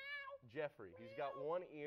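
A cat on a talk show stage gives drawn-out, rising and falling meows, close and clear, mixed in with someone speaking.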